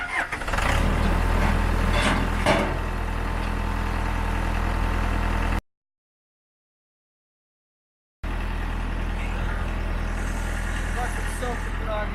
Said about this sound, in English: Okay, start the backhoe.